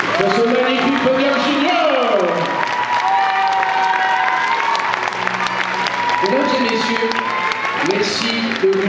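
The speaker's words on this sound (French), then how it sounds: "Applaudissements, mesdames et messieurs, pour ce magnifique podium." Audience applause and cheering fill a hall at a junior gymnastics medal podium ceremony at the 2015 Corbeil-Essonnes international tournament, steady throughout with tonal music or voices layered over the clapping.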